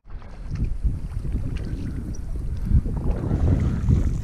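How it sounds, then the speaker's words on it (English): A canoe is paddled across a lake on a wilderness trip, with repeated splashing paddle strokes and water sloshing against the hull, close and moderately loud, over light wind noise. "Chris just paddling his little heart out"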